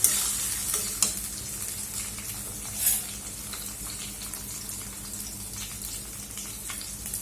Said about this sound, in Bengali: এবার আমি দিয়ে দিচ্ছি একটা বড় সাইজের টমেটো কুচি। এটাকে খুব ভালো করে আমি ভেজে নেব।